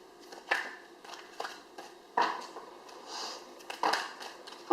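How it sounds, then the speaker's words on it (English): Angel oracle cards being shuffled by hand in a handful of short, crisp riffling and slapping bursts with quiet gaps between them, close and clear with no talking. "Give them a shuffle."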